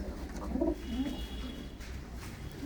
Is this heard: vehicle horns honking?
no